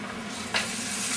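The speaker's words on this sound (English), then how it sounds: "when the frying pan is hot enough, you dump the ribs on" Ribs hit a hot frying pan midway, and a steady sizzle jumps into a louder, brighter crackle that keeps going close and alone.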